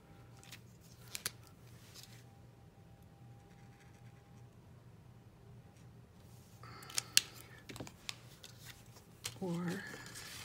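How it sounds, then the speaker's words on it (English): Scissors snipping glimmer paper to cut out a full-size bow for a handmade card, quiet close crisp snips with paper rustling, a few sharper cuts near the end. "I would cut like a full-size bow out of the glimmer paper."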